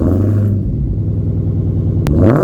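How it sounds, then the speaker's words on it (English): A 2023 Dodge Challenger Hellcat Jailbreak's exhaust booms loud and close through twin tips, a deep steady rumble that swells into a revving burst near the end. "on the bottom of this car, you get 2 exhaust tips. And take a listen to how this sounds"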